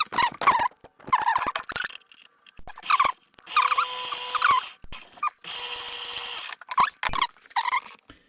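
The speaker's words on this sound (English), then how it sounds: "Now we'll trim it back to that line with the lathe." A lathe trims a tube for a desktop orrery solar system model in short, intermittent cutting bursts with high squealing tones, separated by brief pauses and a couple of longer sustained passes.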